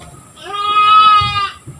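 A goat bleats loudly and clearly for about a second at a goat handover ceremony held for food security, with faint background noise around it and no talk.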